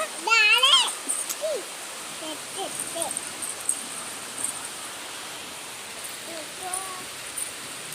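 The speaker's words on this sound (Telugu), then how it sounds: "వెన్నెల వాన పడుతుంది" Rain falling in Hyderabad makes a steady, even hiss for the whole stretch, with a short voice near the start and a few faint chirps scattered through.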